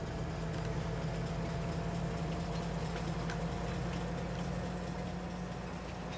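A freight train loaded with sorghum in a farming video game on the Haut-Beyleron map rumbles steadily, with a constant low mechanical drone and hum that holds at an even level throughout.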